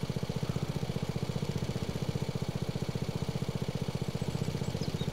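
A Husqvarna riding lawn mower engine chugs with a fast, even pulse as it strains against a hitched rake. The sound is close, steady and mid-loud throughout, with no talking.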